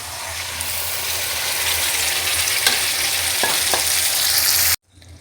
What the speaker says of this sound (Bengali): আগে হচ্ছে টমেটোগুলো ভেজে নিচ্ছি